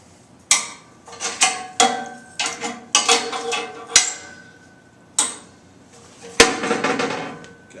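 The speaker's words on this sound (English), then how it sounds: "Okay, I'm going to clamp the corner of this down. A pair of these R11 vice grips." A steel test plate clamped down with R11 vise grips gives a series of sharp metallic clicks and clanks, uneven and close, with quiet gaps between bursts and no talk.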